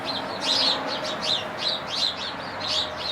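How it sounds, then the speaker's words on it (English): A flock of around thirty sparrows chirps from a bush outdoors, bright overlapping tweets rising in repeated bursts, fairly close and loud, with no voices. "there must be 30 sparrows in that bush"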